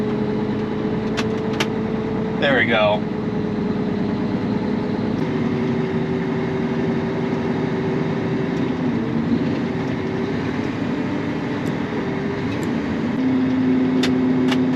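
A John Deere 9570RX articulating tractor rumbles at low speed as it squeezes through a 14-foot shop door, its steady diesel drone with shifting tonal hum running throughout, plus a brief squeal; someone speaks briefly.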